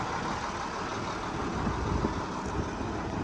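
A John Deere 8630 tractor with a swapped-in Cummins Big Cam diesel engine rumbles loudly and steadily while working a field, a deep continuous diesel drone close by with no break.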